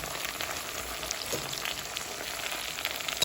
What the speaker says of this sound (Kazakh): Жақсылап араластырып, сәбіз жұмсарғанша қуырып аламыз.